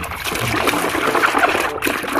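Water splashing and trickling while muddy toy cars are washed, a loud, close, continuous patter of dribbling and splattering liquid.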